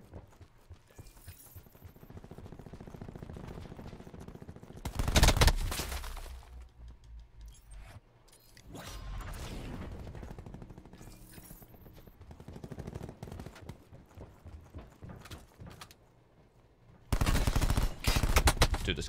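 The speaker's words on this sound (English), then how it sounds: "Dude, this gun shoots so fast." Rapid gunfire in Call of Duty Black Ops 4 comes in loud, fast-firing bursts, with one at about five seconds and another near the end, and quieter game noise between them.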